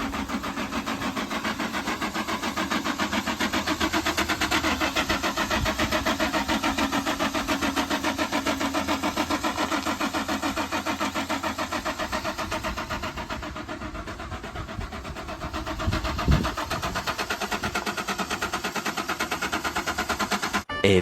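A Ford Ranger built as a Baja truck cranks and runs on starting fluid and injector cleaner, its engine chugging in a loud, steady rapid rhythm that dips briefly and picks back up, close by with no talk.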